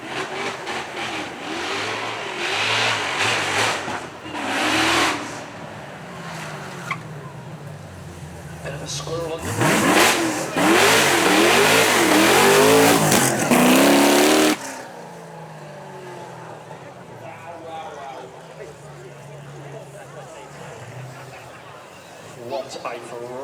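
A powerful supercar V8 engine, an Ultimate GTR at a supercar event, revs and roars repeatedly, building to a loud sustained blast before dropping to a lower rumble, with a brief spoken remark.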